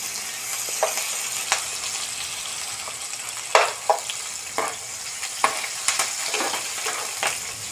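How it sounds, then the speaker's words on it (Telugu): Green chillies and garlic frying in a pan until golden brown, a steady close sizzle broken by sharp clacks of a spoon stirring at irregular intervals, with no voices. "పచ్చిమిర్చి, వెల్లుల్లిపాయలు, అలాగే ఫ్రై చేసుకుందాం గోల్డెన్ బ్రౌన్ వచ్చే వరకు"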